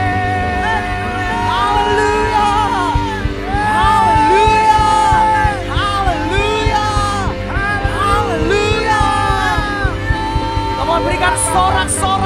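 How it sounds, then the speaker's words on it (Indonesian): A church congregation cheers and whoops for the King during a Sunday worship service, loud crowd shouting and yelling layered over music and voices, building and sustained throughout. "Berikan sorak-sorai terus bagi Sang Raja."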